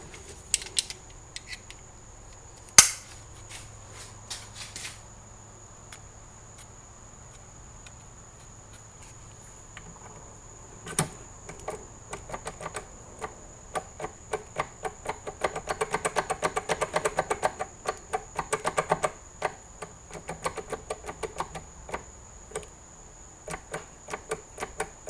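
Rapid, repeated scraping and filing strokes cut a key blank while impressioning a Master Lock no. 40 round storage locker lock, close and fairly faint, growing denser and busier in the second half.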